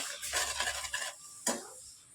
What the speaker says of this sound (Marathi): ते चांगलं हलवून घ्यायचं आहे असं